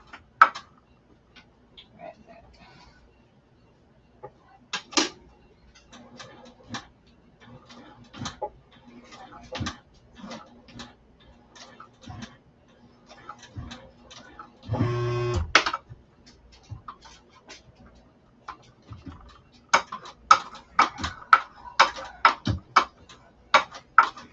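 A hand-cranked sewing machine stitching fabric: scattered light ticks and clicks at an irregular pace, with a brief mechanical buzz midway and denser clacking toward the end, close by and fairly quiet.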